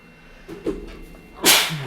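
A single sharp sneeze bursts out close by near the end, preceded by a couple of soft breathy sounds in an otherwise quiet room.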